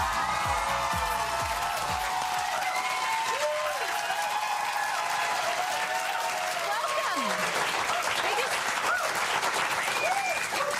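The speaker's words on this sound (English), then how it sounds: "Let them finish their applause." Studio audience applauding as Nicki Minaj is welcomed for a 2012 interview, sustained dense clapping and cheering throughout with a few faint voices mixed in.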